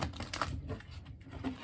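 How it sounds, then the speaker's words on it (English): A tarot deck being shuffled by hand, giving a quick run of soft, dry card riffles and taps that stay close and steady for under two seconds, with no one talking. "One more shuffle this way before we begin."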